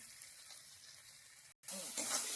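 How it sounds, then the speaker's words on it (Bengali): Ground spices, radhuni, cumin and garam masala powder, sizzle in a hot pan, a faint steady hiss that drops out briefly and returns louder, with no talk. "এই যে রাঁধুনি জিরের গুঁড়ো দিয়ে দেবো, গরম মশলার গুঁড়ো"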